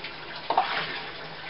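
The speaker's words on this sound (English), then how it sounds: "get me some halfway decent hot water running into these bowls over here" Hot water runs from a tap into bowls for mead making, a steady soft splashing rush with a couple of brief clinks of the bowls, fairly close and not loud.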